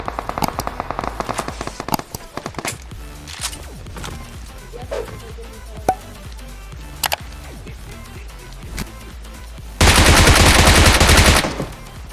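Rapid bursts of video game gunfire crackle in uneven clusters and single shots, ending in a loud sustained volley near the end, with faint speech in the background.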